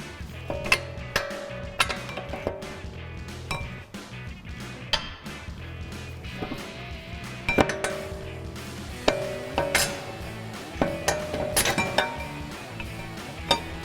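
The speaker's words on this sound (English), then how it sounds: "Then we can remove our bolts." Metal clinks and wrench taps ring out while coil-over mounting bolts are loosened and removed on a 2005-2014 Mustang, with scattered sharp metallic ticks and knocks over a busy garage background.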